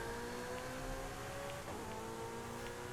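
A car engine drones and revs during a street race in Forza Horizon 5, a steady motor tone with shifting pitch, moderately quiet and heard alone.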